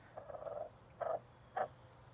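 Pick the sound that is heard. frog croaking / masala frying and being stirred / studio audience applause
frog croaking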